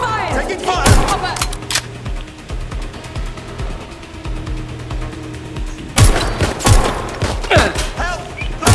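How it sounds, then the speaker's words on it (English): Rapid bursts of video game gunfire crackle loudly and repeatedly, with heavy volleys near the start and again toward the end, under shouted in-game voice lines. "Shots fired! Taking fire!"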